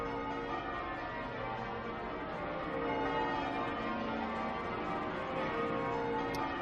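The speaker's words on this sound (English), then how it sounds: "St. Paul's Cathedral Guild of Bell Ringers, hard at work already" The St. Paul's Cathedral Guild of Bell Ringers ringing the cathedral's church bells for a royal thanksgiving service, a dense, continuous wash of pealing bells, loud and sustained throughout.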